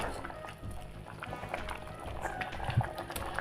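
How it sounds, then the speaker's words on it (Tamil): Black kavuni rice bubbles in a pot at a rolling boil, a soft, uneven simmer of pops and gurgles heard up close and fairly faint. "ரைஸ் நல்லாவே கொதிச்சுட்டு இருக்கு"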